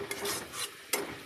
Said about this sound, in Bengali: কষানো হচ্ছে, আলু সেদ্ধ হওয়া পর্যন্ত কষে নেব।